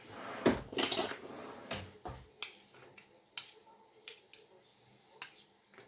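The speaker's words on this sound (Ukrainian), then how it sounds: "Далі ще раз розмішаю, додаю ось цієї картопляної маси" A spoon clinks and scrapes in a bowl while potato and cheese filling for potato pies is stirred, giving soft irregular taps and knocks that are quiet and close.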